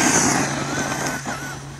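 A Traxxas Stampede RC truck whirs with a steady electric motor whine, fairly loud and close, holding a constant pitch with slight fluctuations and no talking.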